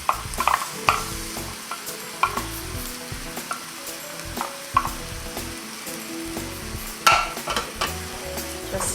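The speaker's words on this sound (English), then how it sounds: "Stirring that through so the flavour is going all through the vegetables and the meat." Tomato puree being stirred through vegetables and minced meat frying in a pan for homemade dog-food bolognese, with steady sizzling and a few sharper scrapes of the spoon against the pan at irregular intervals.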